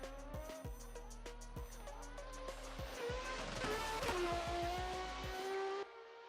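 A Toyota Supra drift car, the A80 or Mark 3/4, launches on a qualifying run at Interlagos in a sim racing game. The engine revs and climbs through gear shifts with tire squeal, loud and close, no talking.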